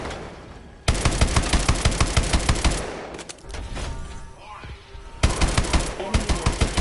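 A vehicle's main gun fires in Call of Duty Advanced Warfare: loud rapid bursts of evenly spaced heavy shots, a pause filled with mechanical whirring and a synthetic voice, then another fast volley.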